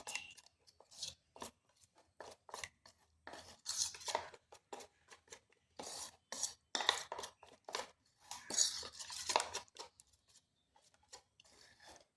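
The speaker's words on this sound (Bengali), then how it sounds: "এরপর এটা ভালোভাবে মিশিয়ে নিচ্ছি।" Spiced batter with coriander leaves, cumin, coriander and chilli powder being mixed in a bowl, sporadic clinks and taps of a utensil against the dish, quiet, with pauses between strokes.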